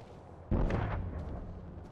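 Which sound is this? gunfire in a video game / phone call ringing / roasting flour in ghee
gunfire in a video game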